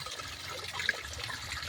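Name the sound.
flowing water near a waterfall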